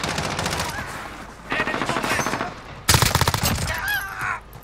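P90 submachine gun in Modern Warfare firing in rapid automatic bursts, three loud close strings of shots separated by short gaps, with game effects around them.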